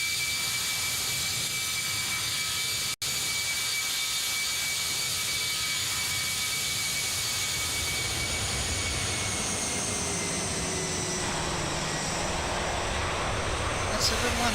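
A Toliss Airbus A319 jet in X-Plane 11 sweeps past in a flyby, a steady broadband engine roar with a whining tone that shifts in pitch as the aircraft passes, heard alone without talk.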